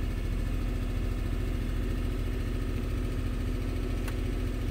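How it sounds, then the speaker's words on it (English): A 2015 GM truck's 5.3 V8 with a stumble runs steadily at raised RPM, a continuous low engine drone and vibration close by with no talking. "Let's bring up engine RPM if I can."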